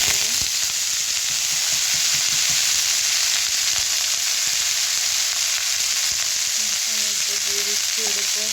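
Cabbage and potatoes hit hot oil in a pan for a fish-head cabbage dish, giving a loud, steady, close sizzle that lasts throughout, with faint stirring clinks.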